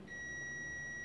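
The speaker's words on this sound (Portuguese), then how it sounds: "Testamos em cada borne. Se bipar, as bobinas estão boas." An electrical continuity tester beeps steadily as its probes touch an electric motor's coil terminals, a single clear high-pitched tone held for about a second in a quiet workshop.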